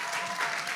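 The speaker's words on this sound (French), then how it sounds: "Public, est-ce qu'on peut l'applaudir très fortement pour elle?" Audience at a live music show applauding a female singer, a brief, fairly quiet burst of dense clapping.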